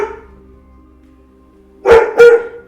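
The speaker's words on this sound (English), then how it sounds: "Oh, sorry, my dog." Two sharp, loud dog barks in quick succession, close by, rising out of a quiet room after a low background hum.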